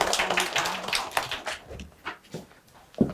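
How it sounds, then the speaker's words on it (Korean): A small audience at a real-estate lecture in Gangnam gives scattered, quiet claps, irregular and fading out over a few seconds. "박수 한번 주시죠"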